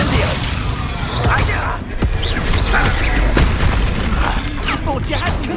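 Incendio fire spell cast in the video game Hogwarts Legacy, a dense blast of whooshing fire and crackling bursts within loud battle noise, with a brief dip near the middle.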